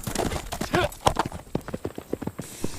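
Horse hooves clip-clop in a quick, steady rhythm on ground in a forest, close and fairly loud, with a short whinny-like sound and no talking.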